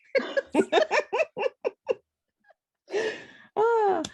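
A rapid string of about eight short coughs or laugh-like bursts, followed by a pause, then a breathy exhale and a voiced sigh.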